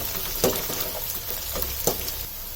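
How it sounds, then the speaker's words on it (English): Sliced small onions sauteing in a pan, a steady soft sizzle with a few louder crackles and pops rising above it. "Onion is sauteed well."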